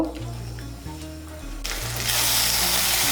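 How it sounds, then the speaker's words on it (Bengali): Spice paste hits hot oil for a soybean and pointed gourd curry and erupts into a loud, steady sizzle partway through, following a quieter stretch with a soft tonal background. "মিশিয়ে নিয়ে মশলাটাকে ভালো করে কষিয়ে নেব।"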